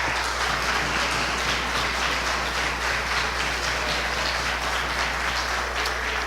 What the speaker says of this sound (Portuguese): Aplaude ao Senhor, a Jesus aí bem forte.